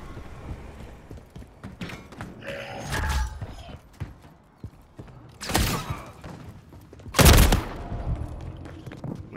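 Scattered gunshots in Modern Warfare 3, Gun Game mode, with two loud sharp bursts standing out over a clattering, mechanical game background, separated by quieter stretches.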